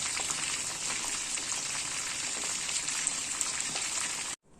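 Sweet and spicy marinated chicken wings and legs fry in hot oil, a dense continuous sizzle with crackling spatters, close and loud, cutting off abruptly at the end.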